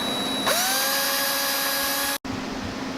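A power drill runs steadily into a wooden block to bore a hole sized to the wire, starting abruptly with a whining tone that holds for nearly two seconds, then cuts out briefly before the motor hum resumes.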